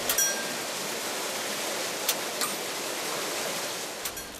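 Steady broadband rush of a waterfall at a Bhutan pilgrimage site near a prayer wheel turned by water, continuous and fairly loud with a few faint clicks on top.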